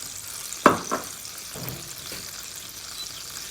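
Butter dropped into a hot frying pan with oil and leftover sauce sizzles with a brief sharp burst, then settles into a low, steady frying hiss.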